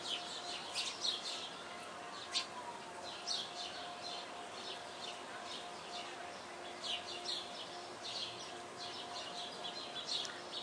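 Backyard birds chirp and tweet in short scattered calls over a faint, steady outdoor hiss, distant and quiet throughout.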